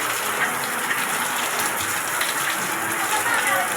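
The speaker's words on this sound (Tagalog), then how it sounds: "Bumaba na, kaso lang umuulan pa." Heavy rain pours steadily onto surfaces around a flooded house, a dense, continuous hiss with scattered splashes and no break.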